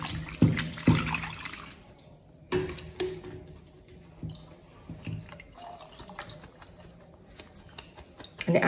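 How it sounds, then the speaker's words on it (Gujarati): Strained chhena (fresh curdled milk solids) is rinsed under running water, with splashes, drips and a few sharper knocks of handling at close range over a faint tap flow, no talking. "આપણે આ જે ગાળી લીધું છે એને આપણે 2 થી 3 પાણીથી ધોઈ લઈશું"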